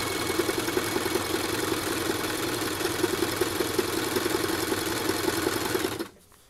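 A sewing machine runs a steady, fast zigzag stitch around the edge of a baby changing mat, with an even mechanical whir and pulsing needle rhythm up close that cuts off near the end, no talking.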